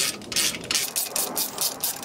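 A ratchet wrench tightens a disc brake caliper bolt on a Ford Taurus, making a quick, loud, close run of rhythmic clicking bursts with no talking.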